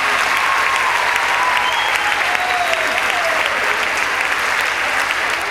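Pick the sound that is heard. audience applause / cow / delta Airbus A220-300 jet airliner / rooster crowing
audience applause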